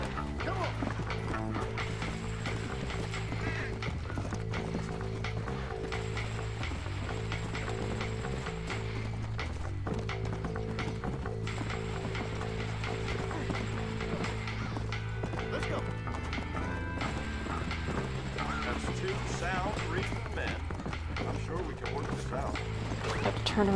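Horse hooves clip-clop at a steady gallop in the Western video game Red Dead Redemption, continuous and close under game music, with a brief whinny and occasional mechanical clicks.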